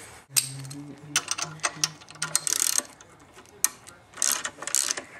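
A 19mm ratchet tightens a spring compressor on a car strut, with close, fast clicking bursts in several runs separated by short pauses, plus faint metallic knocks.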